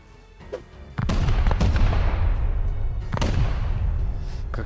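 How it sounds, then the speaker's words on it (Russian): Explosives go off during a base raid in the survival game Rust: a small pop, then two heavy booming blasts about two seconds apart, each followed by a long rolling rumble and debris noise. "Как же они сочно взрываются."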